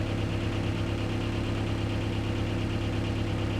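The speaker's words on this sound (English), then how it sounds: "go into every gear, like the reverse, and like just let it idle there for like 30 seconds" A car engine idles steadily in reverse gear while automatic transmission fluid circulates, a low, even rumble with a faint knock-like pulse, continuous and close, with no talk.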